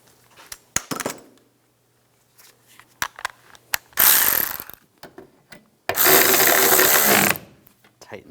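A hand ratchet tightens the nut on a Toyota Prius wiper arm, giving close rapid clicking bursts broken by pauses, with longer louder ratcheting runs near the end.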